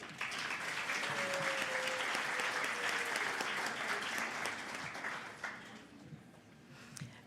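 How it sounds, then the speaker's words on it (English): An audience at an awards gala applauds the honorees, a broad, sustained wave of clapping that holds steady and gradually tapers off near the end. "Please give them a round of applause again."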